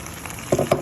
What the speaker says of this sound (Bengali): এখন আমি এখানে কচু শাকটা দিয়ে দিব